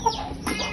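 A hen clucks briefly nearby, a short throaty call over faint background noise.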